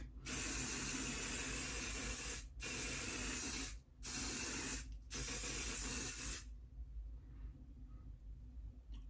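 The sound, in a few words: makeup remover spray being sprayed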